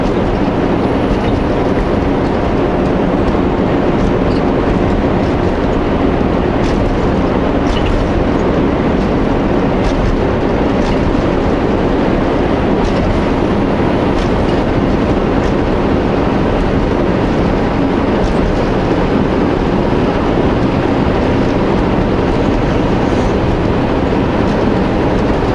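A train rolls along a railroad through the Drumheller badlands of Alberta, a loud, steady rumble with a rhythmic clickety-clack that holds unbroken for the whole stretch. No voices are heard.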